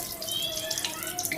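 Cut mustard greens being washed in water, a brief close splash and trickle as the leaves are swished and rinsed.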